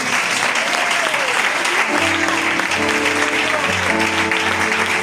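Applause from a church congregation, dense and loud throughout, with a voice speaking over the clapping partway through.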